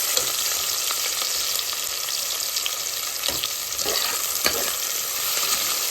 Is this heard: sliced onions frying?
yes